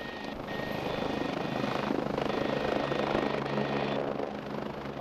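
A Rega rescue helicopter hovers close by during a hoist operation, its rotor and engine producing a loud, steady, pulsing roar with a constant whine throughout.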